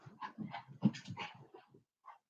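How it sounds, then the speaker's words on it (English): A dog pants and breathes heavily at close range in quick rhythmic bursts while running laps around a house, with a short separate sound near the end. "The dog is running laps around the house."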